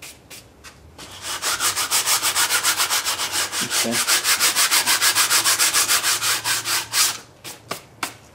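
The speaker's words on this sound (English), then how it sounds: "that sandpaper, that's 36 grit, is actually sanding down that brass" Coarse 36-grit sandpaper grinds down brass on a homemade water-cooled Briggs engine, a loud, steady rhythmic rasp of back-and-forth strokes running about six seconds before tapering into a few short scrapes, with a brief spoken word at the start.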